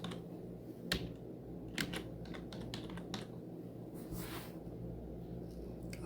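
Typing on a computer keyboard, with quick clusters of light key clicks spread irregularly across a few seconds, close and fairly soft, over a steady low hum.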